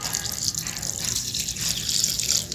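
Water being poured and trickling into red chilli and garlic chutney while it is ground by hand, a steady splashing liquid sound throughout with no talking.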